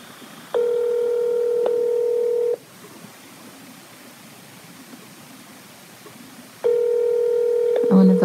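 Phone ringback tone on an outgoing call to a scammers' number, two long electronic rings separated by a quiet pause, clear and close with light background hiss.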